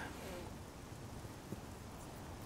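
Rain falling in the video game town of Anvil, a steady soft hiss of downpour with a faint thud, low and even throughout.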